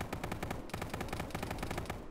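Rapid automatic gunfire in a military tactical shooter, a dense burst of fast repeating shots that briefly pauses and resumes, sounding moderately distant and steady with no talking.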